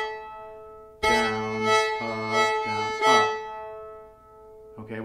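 An old-time fiddle plays a bowing pattern from the tune Groundhog, with bright sustained bowed notes in several rhythmic pulses, close and clear, ending with a short restart.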